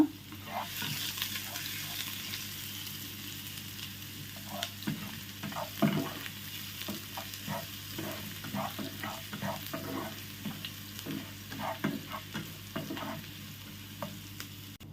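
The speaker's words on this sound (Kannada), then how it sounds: "ಅದನ್ನು ಕೂಡ ಸ್ವಲ್ಪ ಫ್ರೈ ಮಾಡುವ" Chopped chilli fries in a pan with a quiet, continuous sizzle beneath frequent small clinks and scrapes of stirring, fairly soft and close, with no voices.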